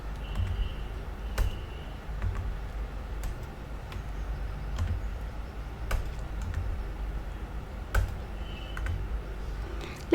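Light, sparse keystrokes on a computer keyboard while entering data into an Excel spreadsheet, soft scattered ticks over a low steady hum, no talking.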